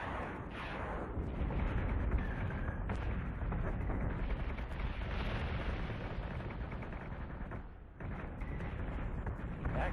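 Spaceship guns fire in Battlestar Galactica Deadlock amid a constant deep rumble of booming shots and explosions, dense and heavy throughout with a brief dip near the end.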